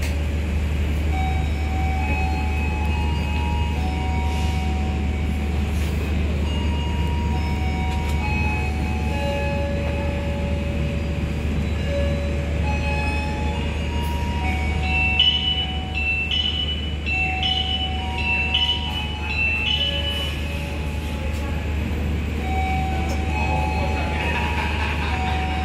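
Argo Bromo Anggrek passenger train departing for Gambir station from track 3, a steady low rumble with long tonal horn and whistle notes and rising wheel and rail noise, with faint voices in the background.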